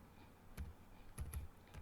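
Keys tapped on a computer keyboard while writing a Python program, a few soft separate clicks in a quiet room.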